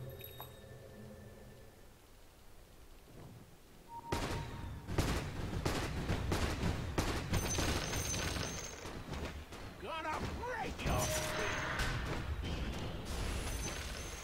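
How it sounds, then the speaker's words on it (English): Gyrocopter's flak cannon fires repeatedly in a Dota 2 match, a dense burst of rapid gunfire-like shots and clinks that starts abruptly and continues loudly, with game sounds and a commentator talking over it. "I just used my flak cannon team."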